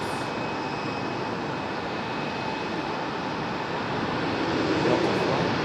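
A Delta airliner bound for Los Angeles at Raleigh-Durham airport at night gives a steady, broad jet roar that holds level and swells slightly near the end, with no voices.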